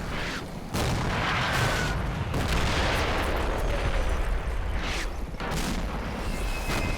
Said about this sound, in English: that's quite a heavy barrage